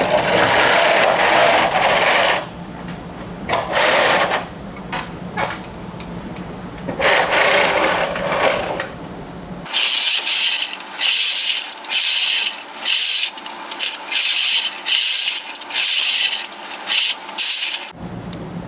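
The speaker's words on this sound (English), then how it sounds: "So I just knit straight up to 84 rows" A knitting machine carriage is pushed back and forth knitting straight rows of a drop-shoulder sweater panel, giving repeated rasping, rolling passes that come loud and close with no talk.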